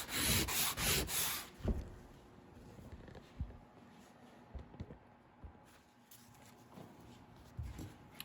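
Sanding an aluminum boat by hand with coarse 50 grit emery, producing bursts of raspy scratching strokes, loud at first and then quieter irregular rubs and taps.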